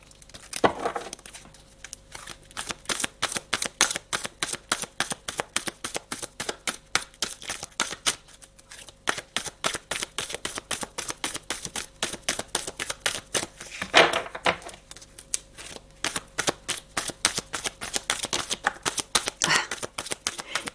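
A deck of cards is shuffled for a card draw, giving fast rhythmic riffles and flicks close by, with short pauses between bursts and no talking.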